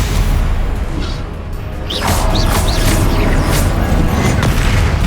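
Spells cast and striking in Hogwarts Legacy, combat against foes: loud whooshing bursts and booming impacts overlap in a dense, continuous clatter of magic.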